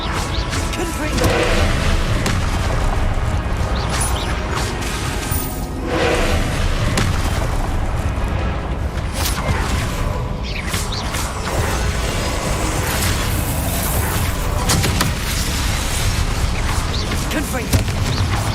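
Repeated Confringo fire spell blasts in the game Hogwarts Legacy boom and whoosh through dense, continuous combat noise, with crashes and bursts layered throughout and a voice talking over the action.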